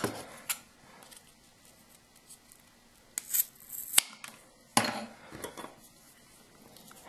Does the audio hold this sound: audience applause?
no